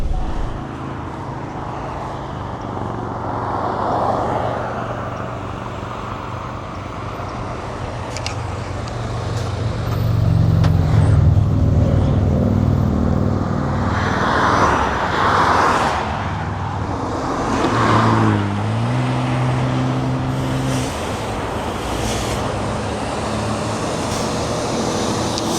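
A tri-axle heavy-spec truck with a DD16 Detroit engine and an 18-speed Eaton transmission drives along, its engine droning steadily and rising and falling as it works through gears, heard from inside over constant road noise.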